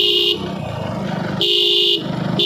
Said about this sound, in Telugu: ఈ విధంగానైతే మనకు హరన్ అయితే వినిపిస్తుంది చూసారా ఇంత లౌడ్గానే అయితే వస్తుంది